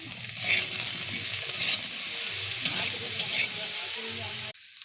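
Vegetables fry in hot oil with a little salt in a kadai, giving a loud, steady sizzle with stirring scrapes throughout until it suddenly stops.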